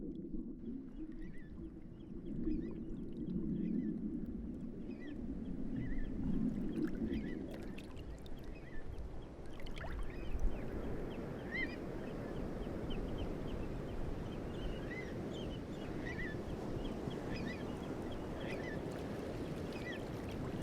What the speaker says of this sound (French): au bruissement des vagues répondent ceux du vent et des ailes des oiseaux